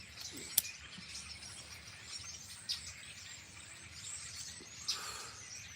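Birds chirp outdoors at a distance, a few sharp tweets scattered over a soft, steady background hiss with no one talking.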